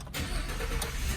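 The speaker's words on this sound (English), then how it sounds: "Let's fire it up real quick." The engine of a 2016 Ford F-150 XLT pickup with remote start cranks over and catches, a dense, loud, low rumble that stays steady through a short burst with no talk.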